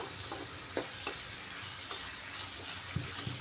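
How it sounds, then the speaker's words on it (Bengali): Garlic frying in a little oil for a dried fish and vegetable dish gives a steady crackling sizzle, close and continuous, with a few soft stirring scrapes over it. "রসুনটাকে খুব ভালো করে ভেজে নিচ্ছি।"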